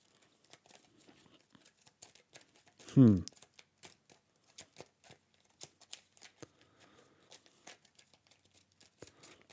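Cards for the Nemesis board game are shuffled by hand, giving a quiet run of soft riffling ticks and taps with one louder brushing burst near the start, close to the microphone.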